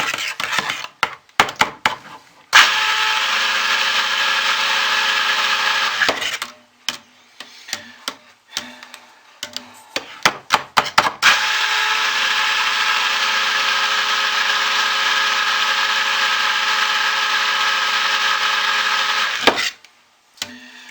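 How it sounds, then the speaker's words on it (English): A handheld stick blender mixes cold-process dish soap batter made with hard oils at 0% superfat. Its loud, steady motor whir runs in two long bursts, broken by short clattering bumps and pauses. "I'm going to go ahead and stick blend it in too"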